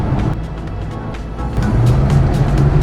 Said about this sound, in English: It's a small engine in this car. It's just an 848 cc's, about half the size of a Volkswagen engine.